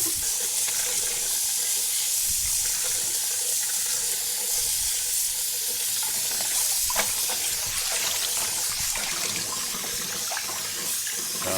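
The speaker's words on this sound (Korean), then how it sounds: "여기서 깨끗이 물에다가 넣고서요. 씻어 줄게요." Napa cabbage is washed by hand in a sink for white kimchi, tap water running steadily with splashing and swishing throughout, close and fairly loud.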